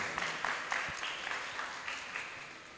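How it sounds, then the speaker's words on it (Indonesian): Scattered, sparse clapping from a small audience of students at an Islamic boarding-school education event, a few distinct claps fading out over about three seconds at a fairly faint level. "Kasih tepuk tangan untuk temanmu lah ya."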